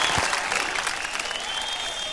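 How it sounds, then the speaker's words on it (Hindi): Loud applause from a studio audience at a televised celebrity dance competition, steady dense clapping filling the whole moment with no talk over it. "जोरदार तालियां हो जाए"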